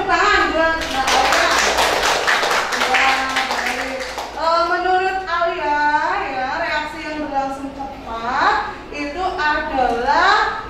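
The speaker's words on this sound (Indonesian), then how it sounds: "Beri tepuk tangan buat Mbak Alia." A burst of hand clapping from several people in a classroom rises at first, then fades as voices start talking over it.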